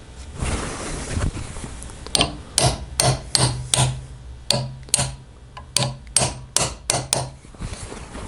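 Hammer blows drive a small brass rivet into motorcycle brake lining, a few scattered taps followed by a steady run of sharp, close, metallic strikes in a loose rhythm.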